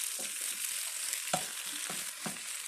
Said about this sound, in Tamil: இப்போ மீடியம் ஃப்ளேமில் நல்லா 1 மினிட் நல்லா ஃப்ரை பண்ணிக்கலாம்